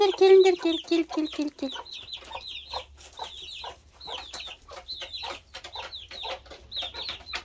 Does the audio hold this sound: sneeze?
no